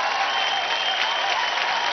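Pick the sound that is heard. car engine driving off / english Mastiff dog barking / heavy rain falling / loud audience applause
loud audience applause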